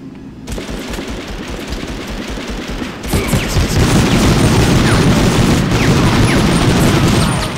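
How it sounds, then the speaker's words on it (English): Heavy, loud gunfire and explosive booms in the 1999 war shooter Medal of Honor, with rapid bursts building into a sustained barrage that grows even denser partway through. "Don't know where everybody's shooting from."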